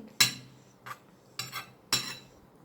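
A metal utensil scrapes and knocks against a hot pan four times in an uneven rhythm, close by, with quiet between strokes, while Chinese sausage is stir-fried in water instead of oil.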